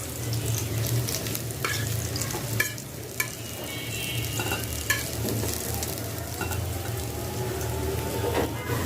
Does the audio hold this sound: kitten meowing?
no